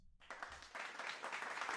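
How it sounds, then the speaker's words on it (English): Canned applause sound effect during an art livestream, a quiet burst of clapping that starts abruptly after a short silence and swells slightly, with light talk mixed in. "the applause sound only activates when I say something, you know, woke"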